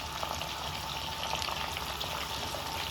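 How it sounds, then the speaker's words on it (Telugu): Pieces of dried fish frying in hot oil for a tomato dried-fish curry give a steady, dense sizzle that stays even and close throughout, with no talking. "ఇప్పుడు ఈ ముక్కలు వేసుకుందాం. మనం ముందు చేప ముక్కలన్నీ వేసేసి కొంచెం ఫ్రై చేసుకోవాలి."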